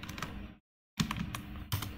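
Typing on a computer keyboard while writing out simple English sentences in a Bangla school lesson: close, steady clatter of keystrokes with a short pause in the middle, then more tapping with a couple of firmer key hits.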